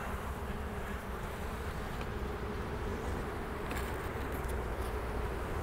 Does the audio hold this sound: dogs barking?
no